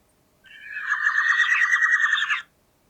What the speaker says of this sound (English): This one here has got bird calls in it.